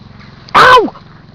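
A dog on a bramble-covered approach lets out a single short howl, loud and close, with a falling pitch, rising out of a quiet outdoor background and lasting under half a second.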